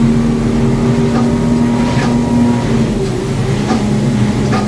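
A Yamaha F250 outboard on an Edgewater boat drones steadily and loud as it accelerates, its low engine hum continuous under rushing water and wind, with no talk.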